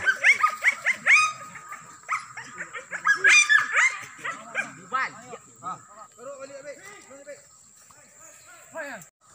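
Hunting dogs bark and yelp excitedly during a wild boar hunt in rural Riau, Indonesia, a rapid overlapping chorus of barks and whines that is loudest early and thins out, with people talking among them.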